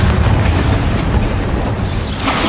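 Bombarda and Confringo blast spells go off in the Hogwarts Legacy video game as dense, continuous rumbling booms with crackling debris, loud and close, with a brighter burst near the end; no talking.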